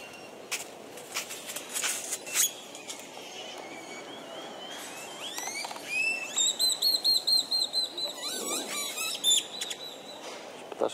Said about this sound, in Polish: ptaszki świergolą